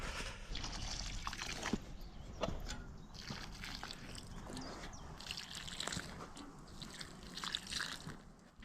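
Water being poured onto a strawberry bed, a steady close trickle and splash with scattered drips and sloshes running throughout, fairly quiet and with no talking.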